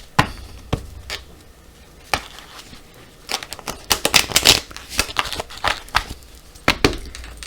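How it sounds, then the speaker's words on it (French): A deck of oracle cards is cut and handled close by, giving crisp papery flicks, slaps and a brief riffling flurry of card noise with irregular pauses, no speech. "On va faire une petite coupe aussi pour voir la tendance avec l'oracle."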